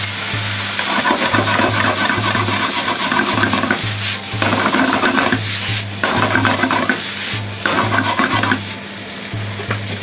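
A big batch of yakisoba noodles sizzles loudly in a pan while a spatula scrapes and stirs in steady, repeated strokes, up close and with no talk.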